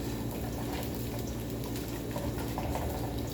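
Oil heats in a pan for sautéing, a steady soft bubbling sizzle that runs continuously at low volume, with no voices.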